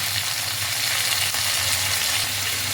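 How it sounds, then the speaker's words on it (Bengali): Chopped tomato and green chili fry in a pan for eggplant bhorta, producing a continuous close sizzle with a faint crackle and no one speaking. "এই সব কিছু দিয়ে আবারও একটু ফ্রাই করে নেব"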